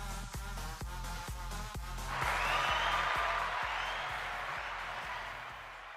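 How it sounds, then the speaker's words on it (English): Audience applause greets the host of a Wacky Wednesday variety show, a dense clapping wash that swells midway over a thumping beat of intro music, then gradually fades toward the end. "Thank you for all the applause."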